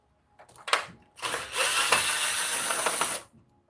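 A power screwdriver works screws loose from an old vacuum cleaner cover: two short clicking bursts, then a sustained bright whirring of a little under two seconds that stops abruptly, close by with no talking.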